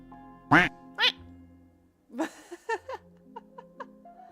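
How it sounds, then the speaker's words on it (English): Duck-like quacking sounds from the House Flipper 2 video game, two loud nasal honks close together and then a run of shorter squeaky quacks with a higher toy-like tone. "Freaking sound like a duck."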